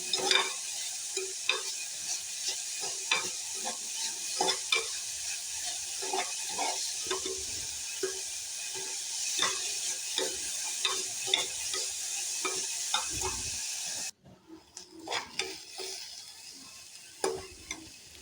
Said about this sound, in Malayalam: നമ്മൾ തേങ്ങയെല്ലാം ഒന്ന് നന്നായി വറുത്തെടുക്കാം